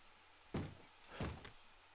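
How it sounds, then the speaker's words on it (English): Minecraft zombies bang against a door trying to break it open, two heavy thuds about two-thirds of a second apart, loud against a quiet background. "The zombies apparently make a very loud noise when they try and knock open a door"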